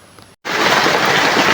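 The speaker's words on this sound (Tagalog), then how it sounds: "Pagkalakas po ng ulan." Heavy rain pours down steadily around a house, a loud, dense hiss that starts abruptly after a brief gap and continues without let-up.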